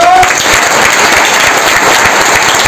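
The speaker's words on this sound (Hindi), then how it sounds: "एक बार ताली बजा दो" Audience clapping at a business motivational event, a loud, steady burst of applause filling the whole short stretch without pause.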